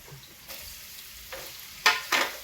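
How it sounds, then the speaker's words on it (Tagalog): Beef sautés with garlic and onions in a pan, giving a soft hiss with a few brief stirring scrapes that grow louder toward the end, quiet and without talk. "Tapos, syempre, gigisa rin din po natin itong beef."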